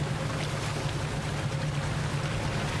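A steady low engine drone mixed with constant washing water noise, like a boat cruising along, with no voices.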